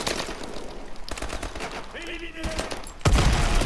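Rapid gunfire in Call of Duty: Advanced Warfare, bursts of shots rattling through the clip and ending in a louder, heavier volley, with faint game sounds between the bursts.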